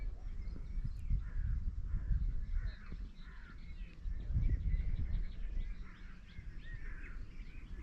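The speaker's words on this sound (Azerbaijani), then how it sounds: "Görüm quşların səsi inşallah ki düşər." Crows caw repeatedly in the countryside of Dəmbəlov, Masallı, on a hiking trail, with harsh, moderately distant calls over low wind and outdoor rumble and a few fainter bird chirps.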